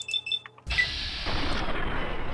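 A gun fires in the game Fallout New Vegas, a sudden loud blast with a long rumbling tail after some quieter game sounds.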